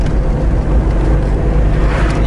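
Car driving along the road on the way to go fishing, a steady low engine and road rumble that sits loud and close inside the cabin, with no talk.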